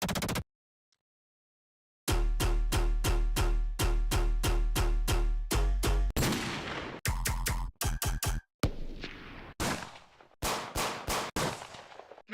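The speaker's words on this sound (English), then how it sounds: "a gunshot, like somebody's cocking their gun back." Gunfire effects in a music track: a dense run of sharp, rhythmic gun-like blasts after a brief silence, then more scattered loud bursts and noisy hits, all up close and loud, with no talking.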